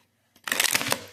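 Tarot cards are shuffled up close, one brisk riffling burst of rapid papery flicks lasting under a second, alone without talk.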